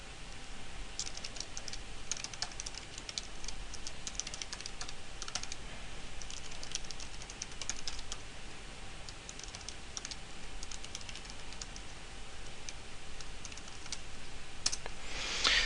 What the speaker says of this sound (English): I just need to type one command.